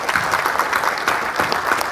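An audience at a Second Amendment gun event applauds a speaker, dense continuous clapping from a crowd, loud and close, steady throughout with no talking over it.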